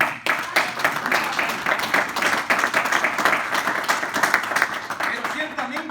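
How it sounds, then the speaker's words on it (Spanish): Congregation in a church applauding loudly, rapid dense clapping throughout, with voices and shouts rising over it. "Vamos a dar un fuerte aplauso ahí."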